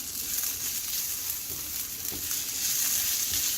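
Onions frying with a spoonful of sugar in a pan, stirred as they cook: a steady, close sizzle with soft scraping and stirring movements throughout, no talking.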